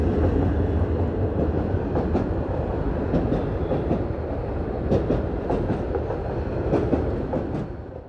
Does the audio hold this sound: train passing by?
yes